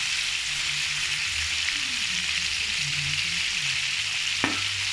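Prawns fry in hot oil in a pan, giving a steady, close hiss and crackle that runs throughout, with a brief clink near the end.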